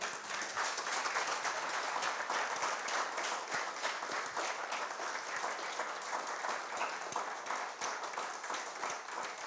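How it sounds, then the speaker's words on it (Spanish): A church congregation applauds steadily and densely for the whole stretch, a loud, even wash of many hands clapping with no talk over it. "Denle un aplauso al Señor."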